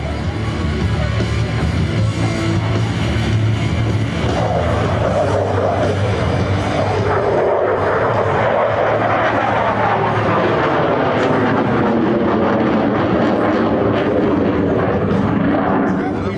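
A Boeing F/A-18F Super Hornet jet flies a demonstration display at an air show at Andrews AFB, Maryland, a loud continuous engine roar that sweeps and shifts in pitch as the aircraft passes, with an announcer talking over it.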